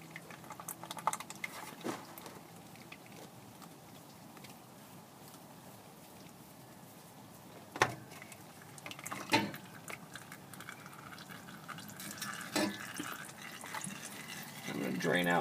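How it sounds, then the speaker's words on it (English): Used engine oil drains from a removed oil filter into a pan beneath a 1968 Dodge A100, a steady trickling patter with a few louder knocks and clinks, while someone talks over part of it. "I'm going to drain out the filter into the pan here."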